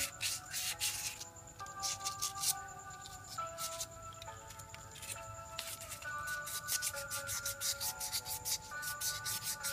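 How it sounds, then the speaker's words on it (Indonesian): A brake caliper piston from a sticking disc brake is rubbed and sanded clean by hand, giving a steady, close scratchy scrubbing under background music that runs throughout. "Ini harus kita gosok sampai benar-benar bersih dan halus"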